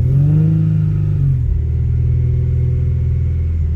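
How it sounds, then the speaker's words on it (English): A 2015 BMW M4 with a manual transmission revs hard in a close, loud burst, then drops back to a steady rumbling idle after about a second and a half. "I'm gonna go ahead and rev it."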